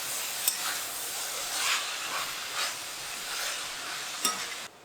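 Chicken noodles tossed with masala in a hot pan, a steady sizzle close by broken by several stirring scrapes and a couple of sharp clicks from the utensil.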